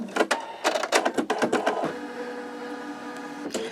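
Computerized embroidery machine stitching an in-the-hoop wallet, rapid bursts of needle clatter with short pauses, then a steadier mechanical hum, close and moderately quiet.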